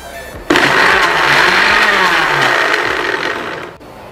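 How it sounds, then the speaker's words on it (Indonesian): A blender whirs loudly and steadily, blending mango with honey, starting abruptly and running for about three seconds before cutting off, with a low, shifting motor tone underneath. "Sekarang tinggal kita blender aja, pakai yang satu aja."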